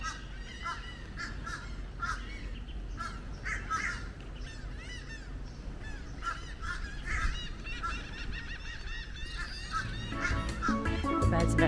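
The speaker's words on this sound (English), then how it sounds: "The birds are very noisy this morning." A noisy morning bird chorus from the trees on Anna Maria Island, with dense, overlapping caws and honking calls that repeat steadily and build louder toward the end.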